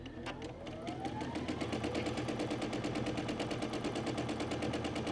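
Computerized Brother or Baby Lock sewing machine starts up and stitches at a steady rapid pace. The needle chatters evenly and loudly, with a rising whine as the motor comes up to speed, and no talk over it.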